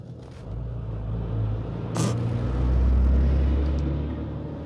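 A truck drives by on a road near the three bridges at Devil's Bridge, its low engine rumble swelling as it passes close and loud, then fading slightly, with no talk.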